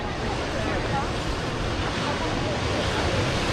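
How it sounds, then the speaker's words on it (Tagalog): Sea waves washing onto the beach beside Al Marneef Cave near Salalah, Oman, a continuous broadband rush of surf mixed with wind buffeting the microphone, steady and fairly loud throughout. "Ito dito sa side na to. Ito yung dagat ng beach, oh."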